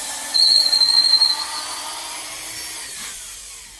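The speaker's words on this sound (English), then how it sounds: "I'm just drilling through" A drill bores through wood to make holes for seat bolts while building a lean-to high seat, giving a high whining grind for about a second before it eases into a fading hum.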